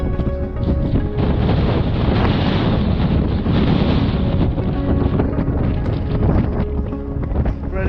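Strong gusting wind on an open trekking trail in Patagonia's Torres del Paine, a loud continuous roar buffeting the microphone with rumbling surges throughout.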